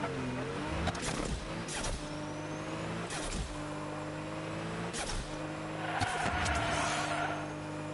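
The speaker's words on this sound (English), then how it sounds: "Here's the sound of this car." Super Blitzen rocket car from a video game, engine droning with stepped harmonic tones that rise and fall as it drives, several sharp bursts and a hissing boost swell near the end, loud and close with no talk.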